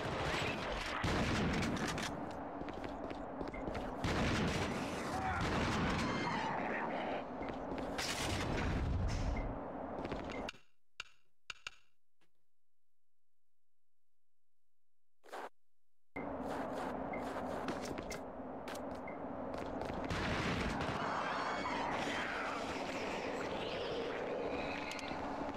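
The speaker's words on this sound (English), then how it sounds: "Stop shooting me in my ass!" Gunfire in The Thing video game: loud bursts of shots and booms fill the scene, break off into near silence for a few seconds, then return just as dense.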